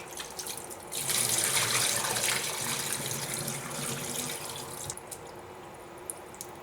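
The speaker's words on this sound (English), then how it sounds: "So when the water runs clear, then you know that you've washed your rice properly." Rice rinsed under a running kitchen tap, water splashing steadily into a sink for several seconds with a sharper, louder gush partway through, no talking.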